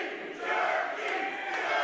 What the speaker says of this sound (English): Listen to this crowd chanting for Kaplan.